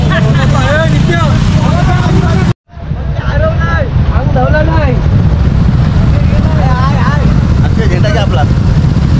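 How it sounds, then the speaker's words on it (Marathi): Motorcycles in a bike rally near Khopoli Ghat set off one by one, their engines a steady, close drone mixed with wind buffeting and crowd chatter, broken by a brief dropout early on. "हळूहळू एक एक बाईक आता पुढं जाणार आहेत. त्या बघा चाललेले आहेत, एक एक बाईक पुढं चालली आहे."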